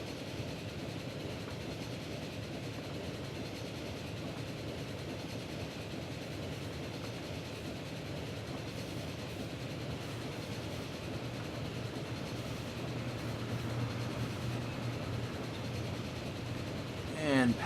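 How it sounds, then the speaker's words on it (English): Southbound express train in the video game Transport Fever, with a steady rumbling rail and engine drone and a faint clickety-clack running evenly throughout at moderate level. "We're currently on the southbound express train on our way to Westmalling,"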